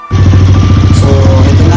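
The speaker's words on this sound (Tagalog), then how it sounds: "pare-parehas yung tunog ng motor na KLX 150 na naka 193cc" A Kawasaki KLX 150 motorcycle engine bored to 193cc idles loudly and close, with a steady, rapid chugging pulse and a slight rise in pitch partway through.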